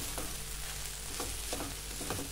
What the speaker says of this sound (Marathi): मसाले व्यवस्थित भेंडीमध्ये मिक्स करून घ्यायचे आहेत